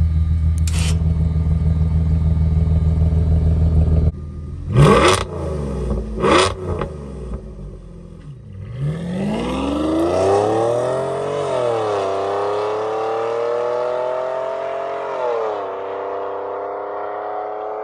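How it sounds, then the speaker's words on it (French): An Audi A8L W12 with its valved aftermarket exhaust open idles steadily, then blips sharply twice before climbing through long, rising revs that dip and swell again, a loud, close engine note without talk. "du coup la voiture passe en échappement libre. Et croyez-moi, le champ du W12, c'est juste incroyable."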